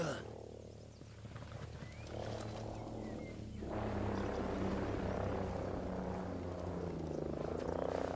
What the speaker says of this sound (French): Hélico et Ennemi en approche, restez à couvert.